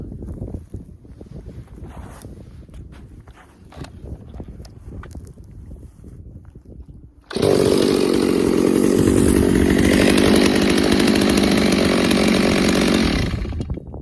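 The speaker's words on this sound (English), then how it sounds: "See how the chain won't stop spinning? The springs are loose." A Stihl 064 chainsaw with loose clutch springs sits at idle with its chain still spinning. After a quiet, rumbling lead-in it suddenly roars into a loud, steady engine drone that holds until just before the end.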